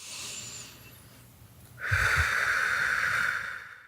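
A quick breath, a faint short intake followed by a longer airy, hissing exhale that swells and holds near the microphone, alone with no talking.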